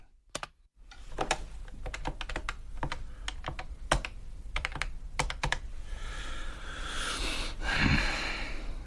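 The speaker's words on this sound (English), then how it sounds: "Just to say I'm still up, typing away, as you can hear. Tap, tap, tap." Someone types on a computer keyboard late at night, a quiet, close, irregular stream of key taps with short pauses, ending in a breathy rustle.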